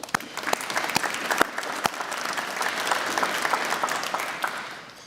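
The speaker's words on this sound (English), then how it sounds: "please give yourselves a round of applause" Audience at an annual meeting clapping together, a dense, steady round of applause with sharp individual claps standing out near the start, swelling slightly then thinning toward the end.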